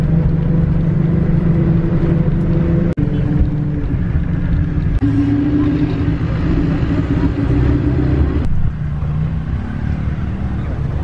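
A bus engine rumbling steadily on the road toward Bhaktapur, Nepal, a continuous low drone with a sharp knock near the start and a slight drop in pitch later, no voices.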